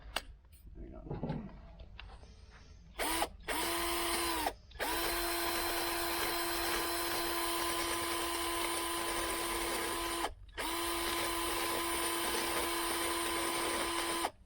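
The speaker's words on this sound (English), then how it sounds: "It's not a very good grinder." Handheld grinder whining steadily during body work on a 1978 El Camino SS, starting after a few quiet seconds, close and loud, cutting out briefly twice before spinning back up to a sustained high-pitched drone.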